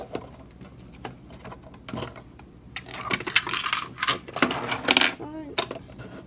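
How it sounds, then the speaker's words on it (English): Riffling and snapping of playing cards being shuffled, quick papery bursts and clicks, close by, with soft rustling between bursts. "so that I can shuffle these cards"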